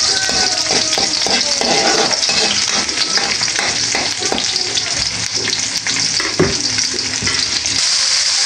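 Tomatoes and squid sautéing in a pan for adobo sa gata, a loud continuous sizzle with scraping stirring strokes and clattering utensil taps running throughout.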